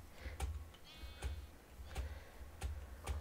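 A sheep bleats once in a Minecraft game, a short wavering call amid a steady low hum, with sharp regular clicks recurring about every half second to second.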